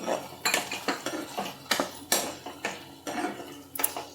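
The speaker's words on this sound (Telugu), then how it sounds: "ఇలా ఫ్రై అయిన దాంట్లో ఈ టోఫు ఫ్రై చేసుకున్నాం కదా, ఇలా మిక్స్ చేసుకోవాలి." Tofu fry is stirred in a pan with a metal utensil, producing repeated close scraping clinks against the pan at a steady rhythm, with no talking.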